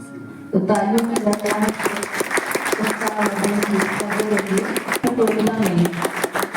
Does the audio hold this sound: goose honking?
no